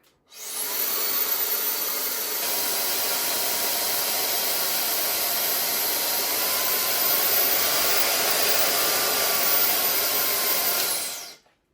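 Lightweight hair dryer with an LED screen switched on, a steady loud blowing whir that starts abruptly, holds evenly for about ten seconds, then cuts off, with no voices.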